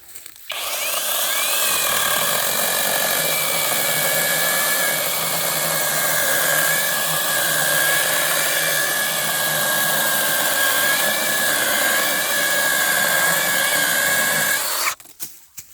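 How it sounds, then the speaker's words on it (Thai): A battery-powered saw cuts through wood with a loud, steady motor whine and grinding that holds for about fifteen seconds, starting abruptly and cutting off at the end, close by with no talk. "อ่ามาดูการตัดไม้นะครับรุ่นนี้ เดี๋ยวจะรีวิวการตัดไม้ให้ดูนะครับ"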